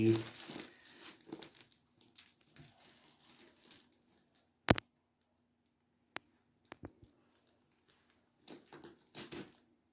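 A plastic compost bag for mushroom growing crinkles in short, close bursts as its mouth is tied tight, with scattered sharp clicks and pauses of quiet between the rustles.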